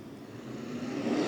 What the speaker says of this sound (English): is the Pro Sprint Car Feature Race restart